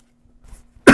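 A single sharp, loud cough bursts out near the microphone after a moment of near silence.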